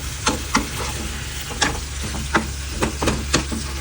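Chicken gizzard simmering in a pan, a close steady sizzle and bubble with sharp periodic stirring scrapes about every half second, no voices.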